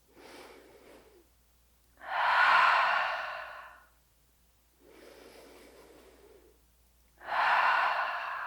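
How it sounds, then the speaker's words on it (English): Deep breathing during a resistance-band warmup: two slow cycles, each a softer inhale followed by a louder, longer exhale, close and unaccompanied by talk. "just breathe 3 deep breaths"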